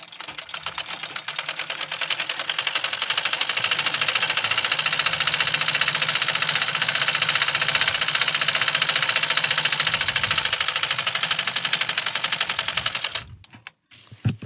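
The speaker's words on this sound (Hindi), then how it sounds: "हम इसको सिलना स्टार्ट कर देते हैं स्ट्रेचिंग की मदद से" A sewing machine stitches fabric for a homemade grow bag in a fast, steady, loud mechanical rattle that runs for about thirteen seconds and then stops, with a few faint handling knocks after.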